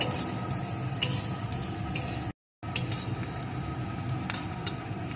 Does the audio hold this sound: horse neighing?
no